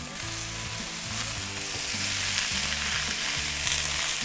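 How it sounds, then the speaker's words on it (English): New potatoes sizzling in butter in a cast iron pan on a Big Green Egg, a loud continuous sizzle with a rhythmic tonal pattern of scraping or stirring underneath, no talk. "You hear that sizzle, that's what you wanna hear."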